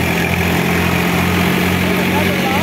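A Swaraj 744 FE tractor engine runs steadily and loudly up close, a continuous low idling drone with no breaks across the short stretch.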